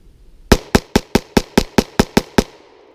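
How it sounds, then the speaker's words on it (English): A borrowed hammer-fired handgun emptying a full magazine in rapid fire: ten sharp, loud shots at a fast, even rhythm over about two seconds, close and alone. "mag dump test."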